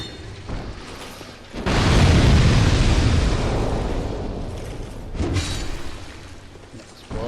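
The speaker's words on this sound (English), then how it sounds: "Exploding barrels." Barrels explode in Dark Souls 2 with a sudden loud boom that rolls into a long rumbling roar and slowly fades, followed by a second smaller burst and a dying rumble.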